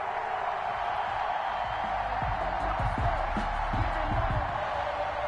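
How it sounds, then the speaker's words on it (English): A dense stadium crowd roars and cheers before kickoff of an NFL Denver Broncos versus Kansas City Chiefs game: a steady, loud wash of many voices with scattered whoops rising through it, continuing without pause. "This crowd is ready as their guys get set to match up between the Denver Broncos and the Kansas City Chiefs"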